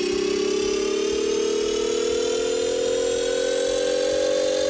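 A homemade gear transmission spinning in first gear, a steady loud mechanical whine that climbs slowly in pitch as it runs, with a rough rumbling drone beneath and no pauses.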